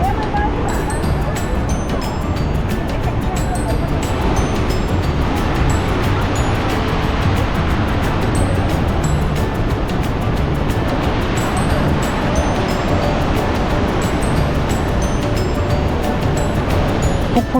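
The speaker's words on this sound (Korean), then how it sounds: "폭포수가 떨어지는 이 소리, 마치 악마의 목구멍에서 포효하는 듯한 압도하는 소리" The Devil's Throat waterfall at Iguazu in Brazil roars with a dense, loud, continuous rushing of falling water, steady and overwhelming from start to finish, with wind mixed in.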